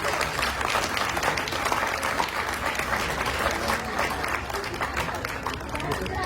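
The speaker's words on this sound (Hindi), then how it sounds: "जोरदार तालियां होनी चाहिए" Loud, sustained applause from a large theatre audience after a stage show, steady clapping filling the whole stretch without pause.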